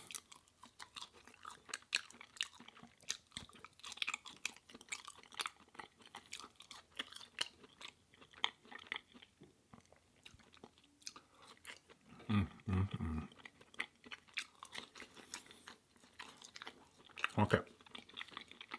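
Fries being chewed close to the mic in a quiet room, with soft repeated crunching and mouth sounds spread unevenly across the stretch and a voice talking intermittently over them.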